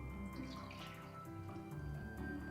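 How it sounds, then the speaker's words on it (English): Vinegar pours into a container for a fizzing Christmas tree experiment, a soft close trickling and dripping of liquid over a faint background hum, without speech. "So pour our vinegar in here."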